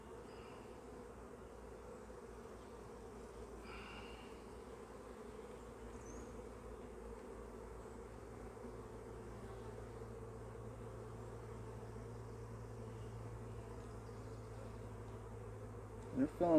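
Honey bees buzz around an open hive while frames of comb are worked, a steady close drone that holds through the whole stretch with faint higher whines drifting above it.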